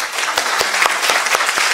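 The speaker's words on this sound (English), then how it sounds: "I join you in applauding Sahaba" Audience applause at the close of a lecture on emotional and social contagion of trauma, a steady run of claps from a small group, sharp hand claps standing out over a continuous patter.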